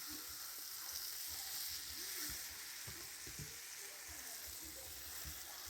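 A steak sears in a grill pan with a steady, close sizzling hiss, broken by occasional low thumps and scrapes as the meat is moved.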